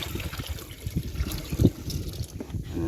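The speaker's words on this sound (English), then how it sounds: "so I'm going to dump this water off" Water poured and dumped from a gold recirculating setup, a close, uneven trickling and splashing that swells into a brief heavier gush before settling back to a steady dribble.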